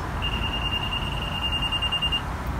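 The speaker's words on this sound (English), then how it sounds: "I hear an awful lot of beeping" A 2018 Nissan Kicks SV gives a single steady electronic beep tone for about two seconds, warning that the key is inside, over a low background hum, nearby and moderately loud.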